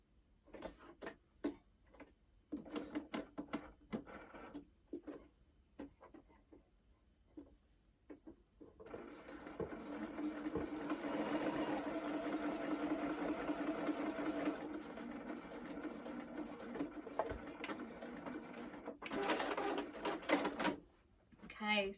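A sewing machine stitches an exposed zip against a raw edge with a placket, starting in short bursts with pauses, then running steadily in a longer continuous stretch before stopping and restarting briefly.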